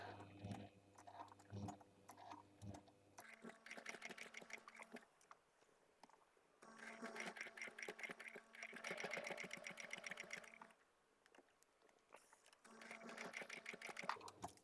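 A sewing machine stitches a fabric bag in three runs of rapid mechanical whirring and clatter, close and clear. Short pauses separate the runs, and softer handling noises come before the first burst.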